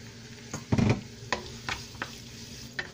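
Onion and garlic frying in a pan, with several separate scraping stir strokes over a soft, steady sizzle, close and fairly quiet.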